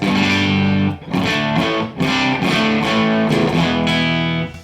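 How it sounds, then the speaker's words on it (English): Electric guitar chords strummed through a JCM 800 style amp with mild grit, rhythmic and close, ringing out with slight breakup on each hit. "This is like a JCM 800 style amplifier. I've got a little bit of grit on this amp."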